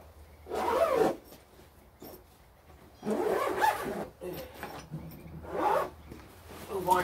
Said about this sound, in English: Let's zip this up and move on to the next bag